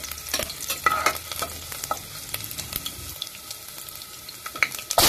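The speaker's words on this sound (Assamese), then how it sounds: "এতিয়া নহৰু কেইটুকুৰা ৰঙা হোৱালৈকে মই ধুনীয়াকৈ ভাজি ল'ম।" Chopped garlic pieces frying in oil with mustard seeds and chillies make a close, crackling sizzle with sharp pops and spatters scattered throughout, finishing on a louder burst near the end.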